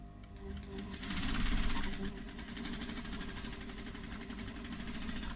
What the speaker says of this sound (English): I'm going to top stitch along the notes section first.